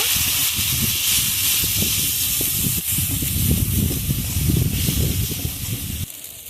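Dry spices, including chili powder and salt, fry in a pan, giving a loud, continuous hissing sizzle with a rough, churning texture that thins out near the end.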